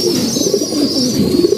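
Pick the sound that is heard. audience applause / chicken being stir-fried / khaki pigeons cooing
khaki pigeons cooing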